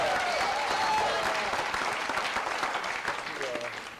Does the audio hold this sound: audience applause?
yes